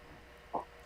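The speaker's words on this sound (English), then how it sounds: "This is a clap" A single short clap drum sample with a degraded, lowered sample rate, one crisp burst standing alone over a faint noise floor.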